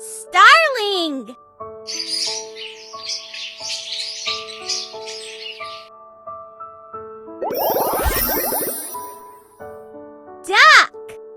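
A starling's chirpy, whistling song plays in a baby's bird-learning game, set over steady electronic musical tones, with a louder burst of chattering calls near the end and brief bright whistles at the start and finish.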